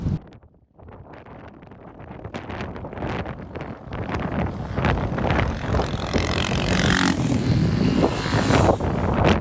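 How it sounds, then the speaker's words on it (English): Wind blusters across an open hilltop, buffeting the microphone in loud, rough gusts that build and stay strong throughout, with no talking. "It's certainly a bit blowy"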